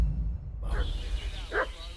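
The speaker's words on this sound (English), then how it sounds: "What's that dog making such a fuss about?" A dog in the video game Kingdom Come Deliverance II gives two short barks, moderately near, over a low background rumble and a voice talking.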